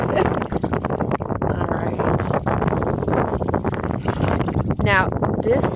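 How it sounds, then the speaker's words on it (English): Gusty wind roars steadily across a microphone outdoors in a garden, loud and continuous throughout with buffeting bursts, while a person talks over it. "It's windy."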